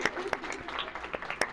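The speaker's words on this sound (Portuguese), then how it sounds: "Aplausos" A small audience at a storytelling session gives a brief, faint smattering of claps, a few distinct sharp hand slaps among softer ones.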